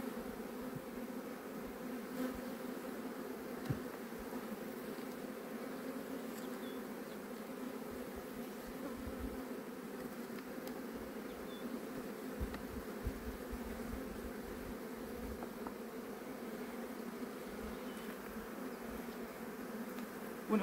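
Honey bees buzz steadily at open hive frames during spring hive work, a dense, continuous drone that holds evenly throughout with no voices.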